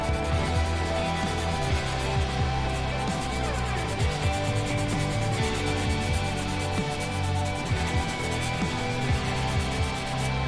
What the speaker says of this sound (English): Yeah, sanding is tedious,